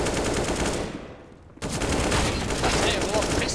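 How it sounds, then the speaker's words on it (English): Pistol gunfire in Counter-Strike: Global Offensive during a pro match on Mirage, a dense, loud burst of rapid shots that drops out briefly and then resumes, with game effects throughout. "Pistols are doing damage, Jay."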